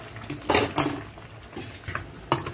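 Metal cookware clanks as a pot of curry is set into a pressure cooker in a home kitchen, several sharp knocks and scrapes close by.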